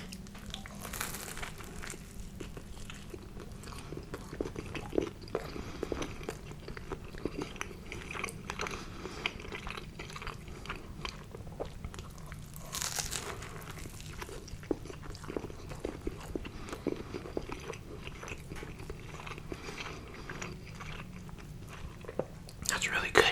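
Close, intimate biting and chewing of a Reuben sandwich, with crunchy bites and wet mastication repeating throughout, wrapper crinkles here and there and occasional talking.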